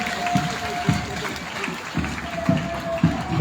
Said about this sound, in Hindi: इनकी कदम ताल के साथ एक बार जोरदार तालियां हो जाएं आपकी